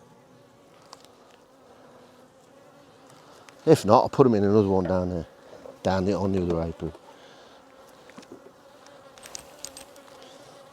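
Honey bees hum continuously around a hive during beekeeping, a soft steady buzz that runs throughout, with a nearby voice talking over it for a few seconds in the middle.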